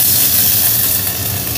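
Ginger and garlic hitting hot oil in a pot, a loud, steady sizzling hiss close up, with no talking over it.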